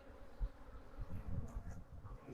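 Honey bees crowd a hive frame, giving off a faint, soft, continuous buzzing hum with small fluctuations, close by and with no voices over it.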